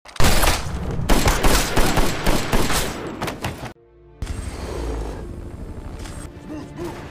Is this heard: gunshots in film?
yes